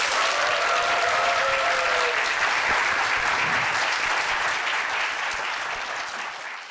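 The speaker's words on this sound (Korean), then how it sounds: "박수 한번 주세요" Sustained audience applause at a Korean youth startup talk event, dense and steady throughout, tapering slightly toward the end, with faint tonal traces of a voice early on.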